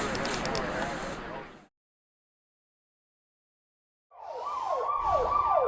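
Police sirens in the video game Jackpot wail with rising and falling sweeps. They come in loud after a stretch of silence that follows an earlier burst of busy sound.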